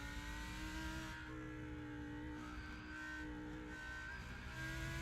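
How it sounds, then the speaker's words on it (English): A Lamborghini race car in a sim racing video game revs and drones as the throttle is worked, a steady, fairly quiet engine tone with rising and falling pitch. "Just hear him trying to get on the throttle earlier and earlier and earlier"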